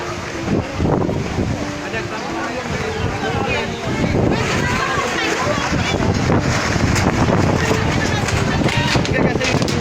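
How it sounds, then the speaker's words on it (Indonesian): Strong west wind gusts steadily across an outdoor wedding reception in Bauta village, Lumut, where a canopy has collapsed, buffeting the microphone loudly and continuously throughout, with voices speaking underneath. "Angin barat bertiup."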